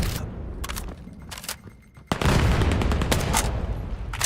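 Gunfire in a Rainbow Six Siege esports match: a dense fusillade of rapid shots that starts after a short lull and continues loud and sustained, with several sharp cracks and impacts mixed in.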